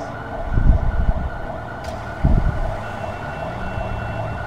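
An ambulance siren sounds in the GTA V LSPDFR police game, fairly steady and moderately loud, with a couple of brief low thumps partway through.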